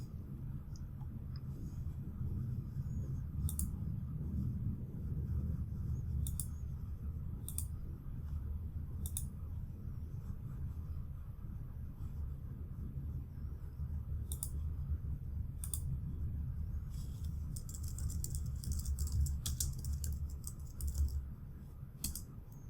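A computer mouse clicks through a software installer in a quiet room, with sparse, faint sharp clicks scattered over a low steady hum of background noise.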